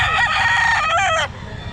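A rooster at a pet market gives one loud, close crow lasting just over a second, then goes quiet against low background murmur.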